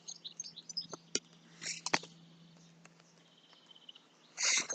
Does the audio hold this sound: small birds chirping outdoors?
yes